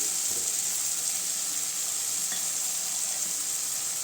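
Tomatoes sautéing in oil in a pan for a dried anchovy curry, a steady soft sizzle close by with no talk.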